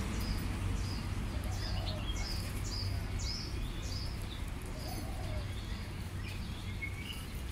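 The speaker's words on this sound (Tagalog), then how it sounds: "Kalapati." Pigeons being fed rice outdoors in Hong Kong give soft, repeated coos and chirps near and far over a steady background rush.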